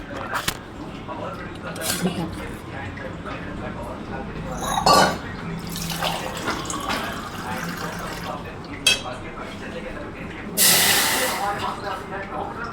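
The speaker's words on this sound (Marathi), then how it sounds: "जे गरम पाणी केलेलं आहे ते गरम पाणी आपण याच्यात टाकून देणार आहोत" Hot water pours steadily into a pot with a rushing, splashy hiss. A few clinks and sharper bursts break through a busy background.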